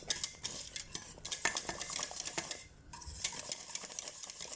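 Thick milk tart custard of egg and flour mixture is stirred in a pot, a spoon scraping and clinking against the metal in a busy rhythm, briefly pausing near the middle before resuming.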